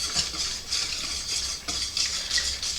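A spoon stirring half and half into a pasty scallop chowder base in a pot, with soft repeated scraping and swishing strokes at close range.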